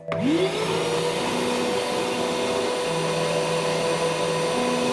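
A STARK VC201 30 HEPA construction vacuum cleaner whirs up to speed with a rising whine, then runs at a steady, droning pitch nearby.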